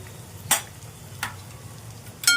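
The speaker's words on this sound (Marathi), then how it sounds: "हे सगळं घालून घेतल्यानंतर मी ते मसाले चांगले परतून घेतले" Spices including garam masala and Kashmiri chilli powder sautéed in a pan for ghevda batata bhaji, with three brief, close scraping stirs over a faint low sizzle.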